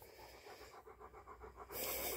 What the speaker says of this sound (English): he's breathing his hot breath all over me